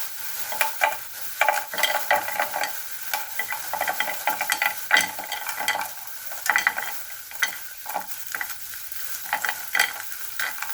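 Frozen garlic scapes frying in a pan, sizzling continuously with frequent bursts of crackle and stirring scrapes, close and lively, with no talk.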